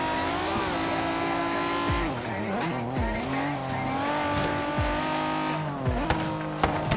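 Race cars in the Forza Horizon 3 driving game, engines roaring loudly and continuously with shifting pitch as gears change, tires squealing and skidding through corners, several cars close together.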